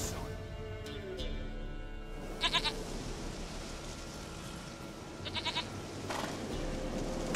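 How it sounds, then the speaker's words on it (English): A goat in The Witcher 3 bleats over a steady in-game ambient background: a drawn-out wavering bleat at the start, then two short, pulsing bleats a few seconds apart, fairly close and clear. "Goat of mine, dearest,"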